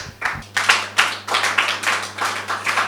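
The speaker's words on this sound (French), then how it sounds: "Merci d'applaudir." A small audience claps in a steady, evenly spaced rhythm, close and moderately loud, with a low hum underneath.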